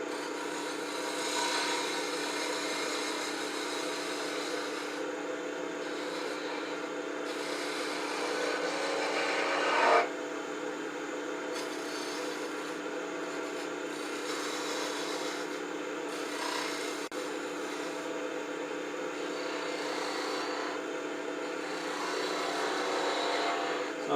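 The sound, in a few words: wood lathe turning wooden owl with spindle gouge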